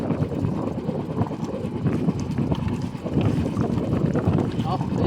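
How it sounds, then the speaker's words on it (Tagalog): Wind gusting steadily across a microphone outdoors, a broad continuous rush with buffeting low rumble that stays fairly loud throughout. "Oh, dito lang ang ihip ng hangin."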